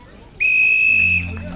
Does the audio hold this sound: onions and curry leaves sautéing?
no